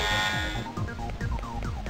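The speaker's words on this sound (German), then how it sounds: "Alarmstufe rot. Alarm." A blaring alarm sounds in the video game Crusader: No Remorse, starting as a steady high buzz and then shifting into repeated pulsing tones over rhythmic synthesized game noise, loud and continuous.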